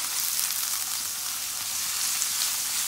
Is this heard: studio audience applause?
no